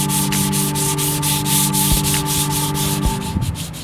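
Steady rubbing sandpaper strokes work over the rear quarter panel of a BMW E30 during bodywork prep, a continuous close scratchy sanding with rhythmic pulses and a faint tonal hum underneath.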